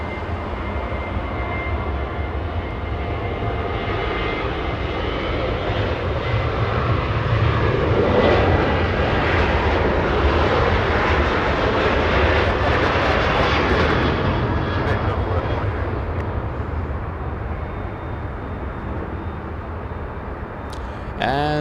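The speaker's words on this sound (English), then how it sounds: "Southwest 2432, flying to Sacramento, California, little 737-800, getting a move on." A Southwest Boeing 737-800 departs Los Angeles International Airport with a steady, powerful jet roar that builds toward the middle and slowly recedes, and someone talks over it.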